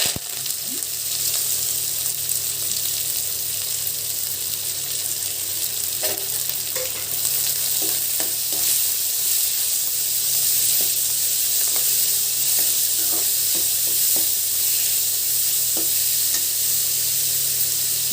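Fish pieces frying in oil in a pan for an Andhra fenugreek fish curry, giving a continuous loud sizzle with occasional pops and light scraping clicks of a spatula, no voices.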